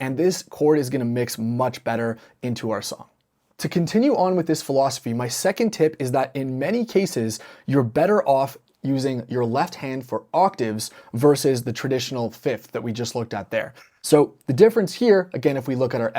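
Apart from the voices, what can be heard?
No distinct noise like a dog, phone or traffic.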